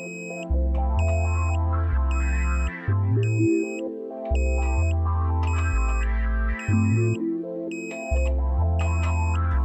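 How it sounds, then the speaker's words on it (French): A satellite dish alignment meter for a Ka-Sat dish emits a steady, repeating pattern of electronic tones, with high beeps over low sustained pitches that step between levels, loud and clear with no voices. "La tonalité continue à ce point n'indique pas le signal optimal."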